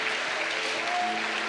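Steady applause from a church congregation during a sermon, dense and continuous clapping at a moderate level throughout, with no voices standing out.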